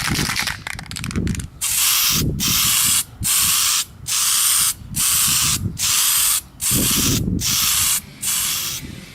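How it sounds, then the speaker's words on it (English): Aerosol spray can applying primer to a small computer case mod part, in a series of about eight loud hissing bursts separated by short pauses, with faint clicks and handling noise before the spraying starts. "I'll just use a spray can."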